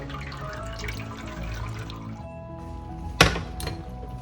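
Water pours into a cooking pot for a sautéed mung bean soup with pork and shrimp, a steady splashing trickle. A sharp clank of the pot comes near the end.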